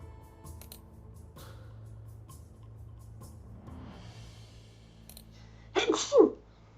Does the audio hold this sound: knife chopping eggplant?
no